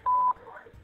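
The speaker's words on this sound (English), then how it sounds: "After the beep, please say United States." An automated Securus prison telephone system sounds a single short, steady electronic beep, clear and close, followed by faint line noise.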